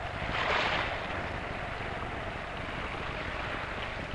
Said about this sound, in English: Here at the eastern end of Lake Ontario, into which Luxembourg would fit about nine times, wind and surf are intensified.